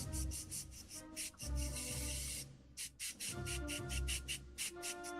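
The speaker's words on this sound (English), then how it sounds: "Spray from a downward angle." Spray paint hissing onto the upper arm of a custom Black Series Han Solo action figure in short repeated close bursts, each spray starting and stopping in a quick rhythm.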